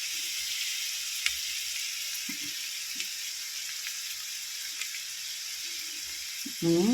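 Ingredients for homemade chicken pastel pan-frying with a steady, fairly quiet sizzle, broken by a few soft utensil clinks and a louder clatter near the end.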